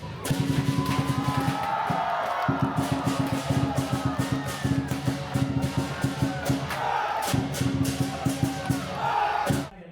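Festival crowd at a Mid-Autumn celebration in Cabramatta cheers and claps through a dragon and lion dance, with heavy rhythmic drumming and clashing cymbals pounding steadily and loudly over the whole scene.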